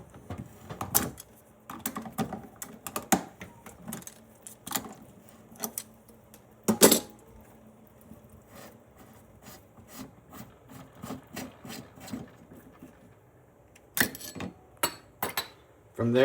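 Pliers grip and turn the retaining nut on a Delta faucet cartridge, giving a series of close scraping, rubbing and clicking metal sounds in irregular bursts, with short pauses between.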